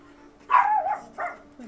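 A pet dog named Sully barks in two short bursts, close and fairly loud, with a brief pause between them.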